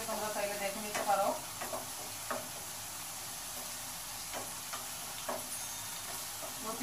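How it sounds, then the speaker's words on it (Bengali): Red spinach with a few green chilies cooking in a pan, a steady close sizzle of frying with occasional stirring scrapes and light clinks throughout. "লাল শাকের ভিতরে কয়েকটা কাঁচামরিচ দিয়ে দিচ্ছি"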